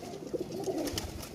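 Cooing of a blue pigeon kept by a pigeon fancier, a few soft low coos close by and alone, with faint background noise.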